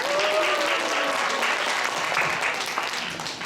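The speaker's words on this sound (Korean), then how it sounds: "멋있는 무대 만들어준 주은석, 주은민 학생께 다시 한번 큰 박수 부탁드립니다" Audience applause for two students after their stage performance at a college ceremony, a dense, even round of clapping from a crowd that holds steady throughout, with faint voices underneath.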